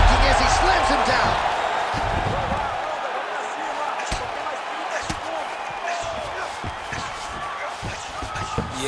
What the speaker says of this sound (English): man, the canvas is shaking as he slams him down